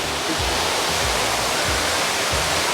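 The indoor waterfall at the Cloud Forest in Gardens by the Bay, Singapore, gives a loud, continuous rushing roar of falling water, filling the space without a break.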